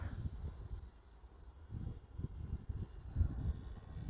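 A radio-controlled profile plane flies some distance away outdoors, its small engine a faint, wavering drone that rises and falls as it passes, buffeted by wind.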